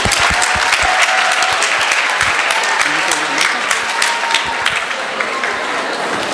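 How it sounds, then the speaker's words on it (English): Loud, sustained applause from a conference audience at a 2017 STEM youth event, dense clapping filling the whole stretch with a few louder individual claps and some crowd murmur mixed in. "another round of applause for them."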